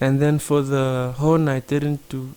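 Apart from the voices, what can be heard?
No everyday noises stand out.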